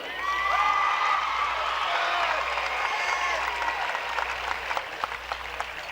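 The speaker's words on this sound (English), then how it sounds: "he gets his girls stand up in their dire moment of disappointment to applaud the champs" Girls' basketball players and crowd applauding the champions in a gym, steady clapping with a few cheers and whoops layered over the top, moderately distant and continuous.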